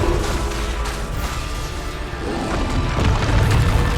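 Explosive booms and crashing impacts from Bombarda spell blasts in the Hogwarts Legacy video game, layered over a continuous loud rumble of magical combat with mechanical clatter.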